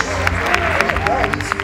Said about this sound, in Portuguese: Palmas para Fora do Eixo!